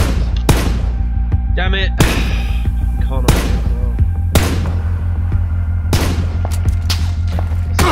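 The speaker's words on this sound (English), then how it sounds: "They're shooting at me. They're hitting me." Loud, close gunfire in PUBG, sharp single shots cracking at irregular intervals about a second apart, with someone speaking briefly between them.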